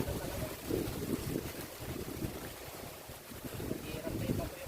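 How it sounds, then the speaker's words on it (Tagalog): Strong wind buffets the microphone outdoors during tilapia fishing, a loud low rumbling roar that gusts and swells throughout, with a voice partly mixed into the noise. "Oh, ang lakas ng hangin eh oh."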